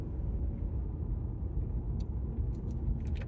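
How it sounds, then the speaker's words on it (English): Chevy Bolt electric golf cart driving, a soft continuous low rumble of the ride with a few brief rattles and clicks near the end, no voices. "Just like my golf cart I'm driving here"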